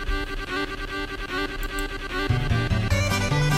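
A game tune from Final Fantasy VII plays, bouncy and busy with a quick rhythmic melody, picking up a punchier low bass line partway through.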